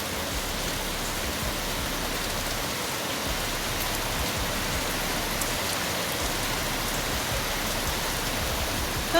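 Steady rain hisses without a break on a wet day, a broad, even roar of drops with no speech, holding at the same level throughout.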